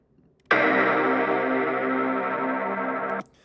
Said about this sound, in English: So now we're going to add a chorus. Let's listen to the chorus in the example.